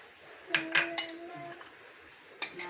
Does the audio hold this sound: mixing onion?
yes